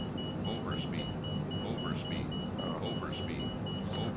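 In Microsoft Flight Simulator 2020, a cockpit alarm on an iced-up aircraft pulses in steady, evenly spaced beeps. The beeping keeps going over a continuous engine rumble while a person speaks throughout.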